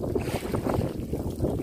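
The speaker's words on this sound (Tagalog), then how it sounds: "ang lakas na ng hangin" Steady strong wind buffeting the microphone at sea amid big waves, a constant broadband rush with low rumbling gusts and faint water sounds, no voices.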